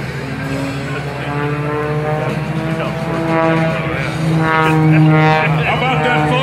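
An aerobatic propeller airplane performing at an air show, its engine droning steadily with a rising and falling pitch as it maneuvers, loud and continuous, with a commentator's voice running underneath.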